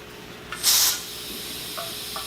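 A short, sharp burst of steam hissing from a pressure canner as the weight comes off after cooking pork chops in jars, loud for a fraction of a second, then quieter hissing and faint clicks.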